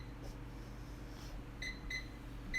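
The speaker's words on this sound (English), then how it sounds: "let me set the timer up here" An oven timer gives a few short, faint electronic beeps in quick succession as it is set, over a low room hum.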